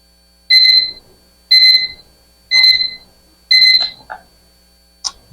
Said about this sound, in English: The timer has told us the fish is done.